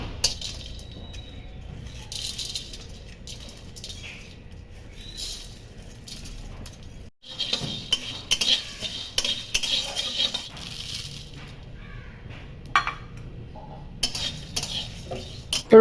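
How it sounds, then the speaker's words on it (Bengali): Whole cumin, cinnamon, cardamom, cloves and bay leaves dry-roast in an empty kadai for chicken vindaloo, with intermittent metallic clinks and scraping from stirring that grow busier and louder after a brief pause. "সমস্ত মশলা খালি কড়াইয়ে ড্রাই রোস্ট করে নিতে হবে।"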